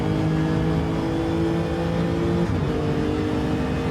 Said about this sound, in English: Nice low rumble of the Lexus.